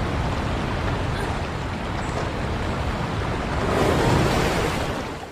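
Strong rushing water fills the scene, a broad steady roar of a fast river current in a film chase, swelling louder toward the end with no voices.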